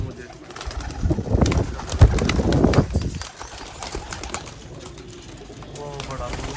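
Pigeons kept on a rooftop in Sialkot coo softly amid outdoor background noise, with a voice heard briefly alongside the calls.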